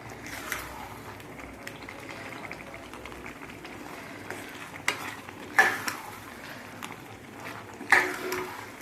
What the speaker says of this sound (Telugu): బాగా కలిపేసుకుందాం అందులో కలిసిపోయేలాగా బాగా కలిపేసుకుందాం